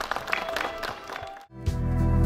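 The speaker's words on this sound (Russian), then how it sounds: "Встречайте аплодисментами наших замечательных детишек." An outdoor audience at a Defender of the Fatherland Day rally-concert claps to welcome kindergarten performers, a dense burst of applause lasting about a second and a half before loud music suddenly starts.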